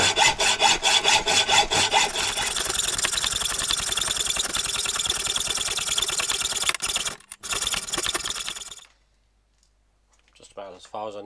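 A hand saw with 18 teeth per inch cuts slowly through a skid shoe for an Aeronca C3, making a loud, close, steady rasping in quick back-and-forth strokes. It stops briefly, resumes, then ends, and someone speaks afterward.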